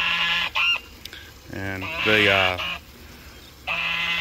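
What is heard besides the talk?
gander goose calling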